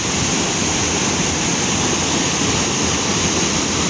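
Water rushes and churns continuously nearby, flowing beneath a rock pool in a forest, a loud, steady broadband roar like flow pouring through rocks, with no voices.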